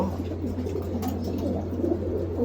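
Pigeons coo softly and repeatedly inside a loft during hot weather, their low burbling calls close by over a steady background hum.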